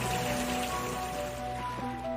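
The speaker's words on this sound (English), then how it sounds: "For 40 days and 40 nights, rain never ceased." Heavy rain pours steadily during the great flood, a dense, unbroken hiss with a low tonal drone beneath it.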